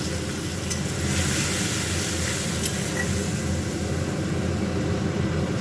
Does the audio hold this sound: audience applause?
no